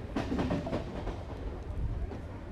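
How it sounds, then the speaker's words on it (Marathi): Riding aboard a moving passenger train bound for Kopar station in the morning, with a steady low rumble and rattle of the carriage running throughout, close and continuous. "ही ट्रेन आपल्याला कोपरपर्यंत आहे."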